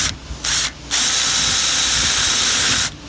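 A power drill drives self-tapping screws into the metal body of a Masterbuilt 1050 or 800 grill during a vent installation, with two short bursts of whirring followed by one long, steady, loud run that cuts off at the end.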